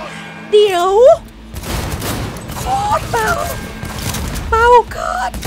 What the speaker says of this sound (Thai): ยิงก็ไม่โดน มันนี่มันเบาเหลือเกินไอ้ปืนบ้า